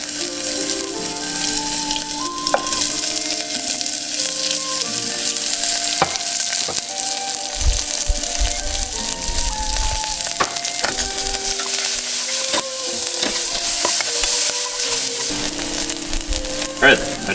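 Ginger and green onions fry in peanut oil for ramen, making a steady close sizzle with scattered pops and occasional stirring knocks throughout.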